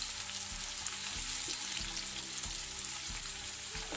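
Onion and whole dried red chillies frying in a pan for mixed vegetable salan, a constant soft hissing sizzle at low level with faint regular knocks underneath, no speech.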